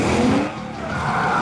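A car spinning through 180s and 360s on a riverbed during a film stunt, tires squealing and skidding loudly with engine noise, the screech sliding in pitch as the car rotates.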